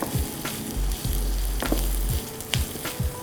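Red, yellow and green bell peppers sauté in a kadai with a loud, constant sizzle, broken by repeated clanks and scrapes of a spatula stirring against the metal pan, with no talking.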